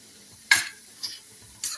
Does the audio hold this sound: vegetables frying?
yes